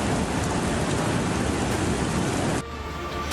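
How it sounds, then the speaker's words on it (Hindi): Heavy rain pours in a steady, dense roar during a night of downpours and cloudbursts in the mountains of Mandi, Himachal Pradesh, then drops abruptly to a softer patter near the end. "प्रदेश में बीती रात से हो रही तेज बारिश"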